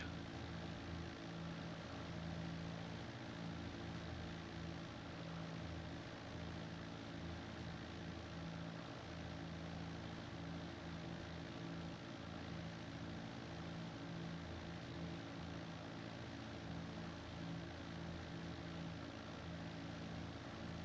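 Propeller aircraft engine droning in the X-Plane 12 flight simulator during Caribbean island hopping, a steady low hum with tonal engine harmonics, unchanging and fairly faint throughout, no talk.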